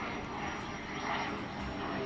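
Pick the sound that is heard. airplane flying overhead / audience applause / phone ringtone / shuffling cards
airplane flying overhead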